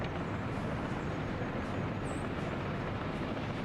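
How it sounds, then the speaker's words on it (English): A train in the Workers & Resources game, a steady low rumble and rolling rail noise at an even level throughout, with a brief high squeal partway through. "Do I hear a train?"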